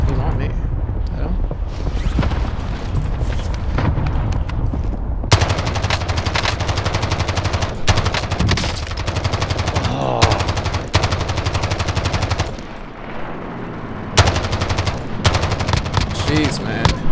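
Rapid automatic gunfire from an enemy's weapon in Call of Duty Warzone, loud sustained bursts of shots broken by brief pauses, with game sounds and a voice underneath.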